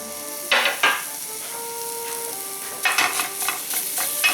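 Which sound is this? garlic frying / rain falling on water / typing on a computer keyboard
garlic frying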